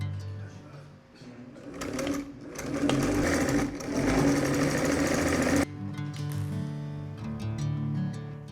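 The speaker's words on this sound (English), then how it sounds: "I'm going to sew them on the shoulders." A sewing machine runs steadily while stitching the shoulder seams of a linen blouse, a close, continuous mechanical whir that grows louder and busier midway, then settles into a slightly quieter steady run.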